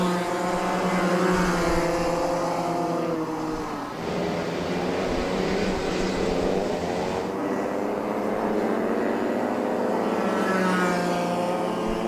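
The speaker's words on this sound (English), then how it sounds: "Puwara has that extra bit of strength pulling his kart away from Pimpat" Racing karts roar around the circuit at an RMC Asia Trophy and RMC Thailand round, a loud, continuous engine drone that swells and eases slightly as the machines pass close by.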